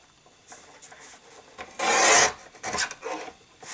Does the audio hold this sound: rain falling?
no